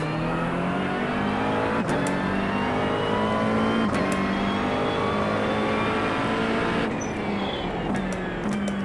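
A McLaren 720S GT3 race car engine in the iRacing sim at The Bend GT Circuit screams loudly and continuously, its pitch climbing through the revs with several sharp gear-shift drops along the way.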